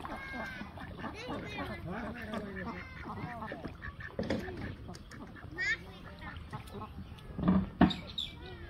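Ducks quacking in a village setting, several calls breaking through under nearly continuous nearby talk from people, louder near the end.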